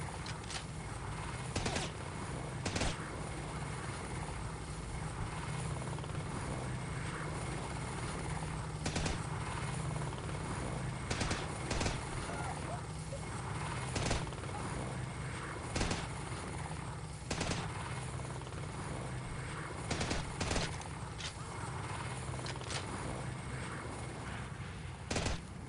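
A helicopter in the PC video game Delta Force Task Force Dagger drones steadily with a constant rotor roar, punctuated by repeated sharp bursts of gunfire throughout.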